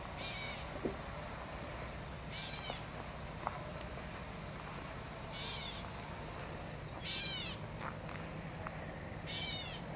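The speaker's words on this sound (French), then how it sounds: "c'est un moqueur-chat qui fait ça" A gray catbird repeats short, squeaky, warbling phrases every couple of seconds over steady outdoor background noise, moderately close.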